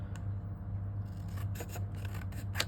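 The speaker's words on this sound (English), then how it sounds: "all I'm going to do then is just take my scissors" Scissors snipping through card around a cut die shape, a few quick close crisp cuts over a steady low hum, with no talking.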